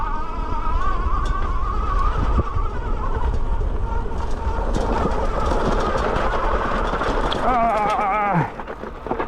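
Engwe L20 2.0 e-bike motor climbing a hill on throttle alone, with a steady, close whine and road rumble that strain throughout, then drop away near the end.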